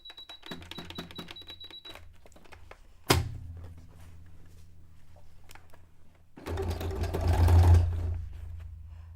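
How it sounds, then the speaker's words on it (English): A domestic sewing machine stitches a 3-step zigzag on fabric for a cone-shaped cape, starting with short whirring runs, a sharp clunk, a pause, then a louder sustained burst of fast needle chatter and motor hum. "I switched it over to a 3-step zigzag stitch"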